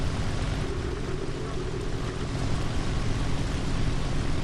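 Roaring engine drone from a fast Soviet warplane in the War Thunder video game, a steady, loud, broadband rumble that holds constant throughout with no clear breaks.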